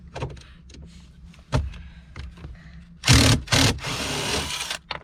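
Screws being unscrewed from the dashboard cup holder area of a Porsche Panamera 4S, giving soft clicks and scrapes followed by two louder bursts of close-up scraping and whirring, with no talk.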